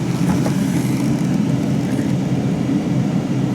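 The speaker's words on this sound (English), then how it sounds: "blower motors on high" A car's interior blower motor running on high with the interior lamps on, giving a steady, loud broadband whir and low rumble that holds evenly throughout without any talking.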